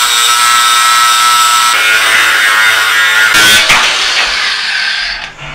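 A power tool, likely a grinder or cutter, cuts down steel carriage bolts that replaced fifth wheel hitch bolts on a sailboat, a loud continuous high-pitched whine and grinding that keeps going for several seconds with a brief surge near the end.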